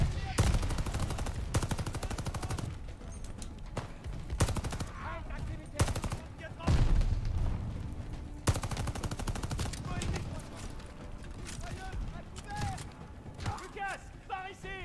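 Rapid bursts of automatic gunfire in Call of Duty: Vanguard, loud and repeated in volleys with short pauses, mixed with game effects and occasional voices.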